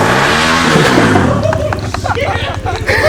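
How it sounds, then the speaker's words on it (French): A motorcycle engine revs loudly up close, its roar rising and sputtering while a crowd of voices chatters in the background. "ils vont le réveiller avec le bruit du moteur"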